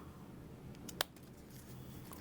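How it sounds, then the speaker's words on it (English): Scissors trim the excess off fabric zipper tabs for a small sewing pouch, a single sharp, quiet snip near the middle, with faint handling rustle around it in a quiet room. "trim the excess off my zipper tabs"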